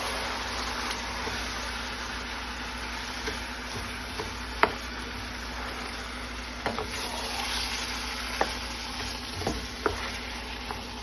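Canned tomatoes being stirred into jambalaya of shrimp, chicken and sausage in a hot pot, with a steady sizzle and scattered scraping clicks of the spoon against the pot.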